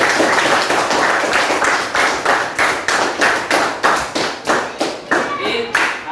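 A classroom group claps together in rhythmic, fairly loud bursts of applause for student groups, the hand claps falling into a steady beat that continues several seconds alongside some voices.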